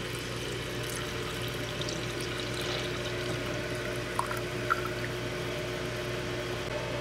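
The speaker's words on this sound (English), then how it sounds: "I'm just gonna add it right into this larger pan with all the butter, the milk, and the cream cheese here" Milk is poured into a large pan already holding butter and cream cheese for a home-canned Alfredo sauce. The pour is a steady, continuous liquid rush that stays even throughout with no talking.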